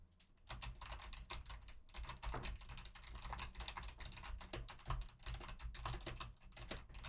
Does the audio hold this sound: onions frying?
no